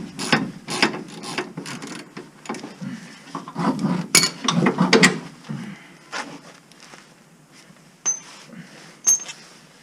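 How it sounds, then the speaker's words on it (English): A hand ratchet clicks in quick bursts while removing a rear shock bolt on an AWD EP3 car during disassembly, close and sharp with metallic clinks and pauses between turns. "Just taking off the shock bolt as well"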